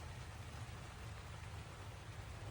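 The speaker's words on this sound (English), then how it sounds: "you can see the rain is just running off" Steady rain falls and runs off a greenhouse, a soft continuous wash of drops and trickling water with no talking over it.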